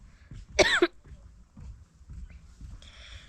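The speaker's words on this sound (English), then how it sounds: "I've been coughing like this since yesterday" A single harsh cough bursts out close by, followed by quieter murmuring and faint background noise.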